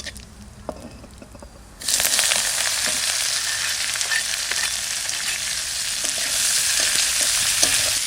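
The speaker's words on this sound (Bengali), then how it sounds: "অল্প তেল দিচ্ছি শুধু পেঁয়াজটা একটু কষানোর জন্য" Onion is added to a little oil in a pan and a loud, steady sizzle erupts suddenly after a quiet start, then continues evenly with faint crackles throughout.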